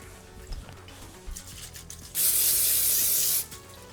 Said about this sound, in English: And then it says to grease the parchment paper too